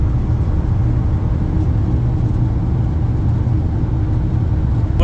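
Steady interior road noise from a car being driven, a continuous low rumble and hum that stays level and fairly loud throughout, with no talking.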